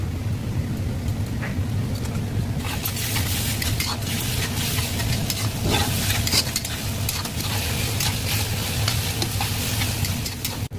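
Garlic paste hits chopped onions frying in a pan for a chicken curry, giving a continuous close sizzle that swells after a few seconds, punctuated by light stirring scrapes.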